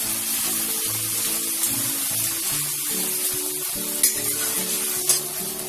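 Ginger garlic paste frying with onions in a pan for spicy potato fried rice, a constant moderate sizzle with faint stirring scrapes and a couple of sharper clinks near the end.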